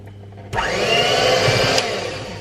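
An electric mixer starts abruptly and whirs loudly and steadily through birthday cake batter, a close, continuous motor drone with a brief clatter near the end.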